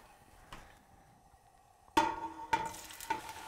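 Chopped carrots, celery and white onions in olive oil for a pasta sauce, starting quiet and then jumping into louder sizzles with a few sharp stirring clatters near the end, no talk.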